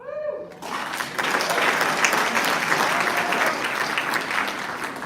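A school awards audience applauds underclass scholarship recipients as they stand, a dense, even wash of clapping that swells after a brief voice at the start and holds steady.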